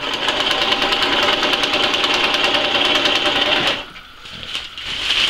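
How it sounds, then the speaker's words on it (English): Sewing machine running steadily while stitching down the folded edge of a handmade DPM camouflage tarp, loud and close with a fast rhythmic needle chatter, briefly stopping near the end before starting again. "sewing down this edge"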